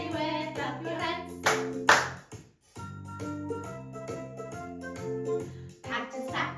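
Hand claps mark the beat of a toddlers' pattern song, sharp rhythmic bursts sitting over the music and a singing voice.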